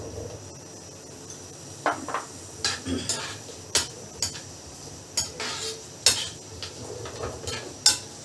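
Cut potatoes go into melted ghee in a pan, with a series of close metallic clinks and scrapes of utensils against the pan over a faint background.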